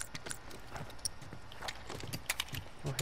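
Horse hooves clip-clop in The Last of Us video game, a steady run of light, crisp hoofbeats over a faint ambient background, fairly close with no talk.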